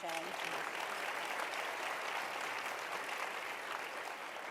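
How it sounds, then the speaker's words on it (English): Sustained applause from a crowd at a luncheon, steady and moderately loud throughout, with a brief voice at the start. "she deserves a round of applause before we begin this conversation"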